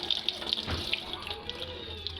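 Sliced tomatoes rinsed under a running kitchen tap, with close water splashing and spattering into a sink, a few sharp clinks, and no talk.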